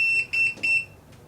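A Retekess TD175S restaurant pager beeps in a quick series of three bright, piercing electronic tones, close and loud, followed by a fainter blip.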